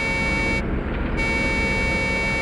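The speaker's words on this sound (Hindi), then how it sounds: "हॉर्न भी बजा रहा है।" A truck horn sounds in a forest as a signal, a steady honk held throughout over a constant engine drone.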